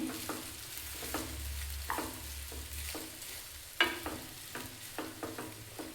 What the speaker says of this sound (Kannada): ಇದಕ್ಕೆ ಒಂದು ಬೌಲ್ ಅನ್ನನ ಸೇರಿಸೋಣ. ಇದನ್ನೇ ಈಗ ಚೆನ್ನಾಗಿ ಮಿಕ್ಸ್ ಮಾಡಬೇಕು.